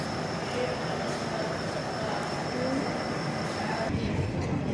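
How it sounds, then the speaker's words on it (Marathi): The Nandigram Express passenger train pulls away from a station with a steady, rumbling rolling noise and a faint high tonal whine, close and continuous, with a voice talking faintly underneath. "ही ट्रेन आता निघालेली आहे"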